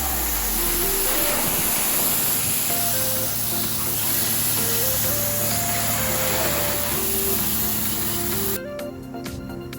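A steady, loud spray hisses continuously while washing a filthy engine covered in spider webs, then cuts off abruptly near the end, with faint background music underneath.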